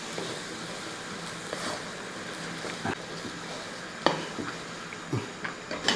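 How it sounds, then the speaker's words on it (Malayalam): A spoon stirs cooked horse gram with drumstick leaves in a pan, giving irregular scrapes and clinks against metal over a low background hiss that grow louder and more frequent toward the end, close by, with no talking. "ഇനി ഒന്ന് ഇളക്കി"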